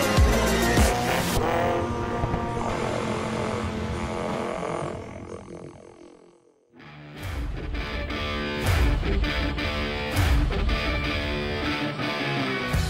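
Rally and rallycross cars in a racing video game roar continuously at high revs with repeated tire squeals and skids, dropping briefly to a lull before the engine noise surges back loud and dense.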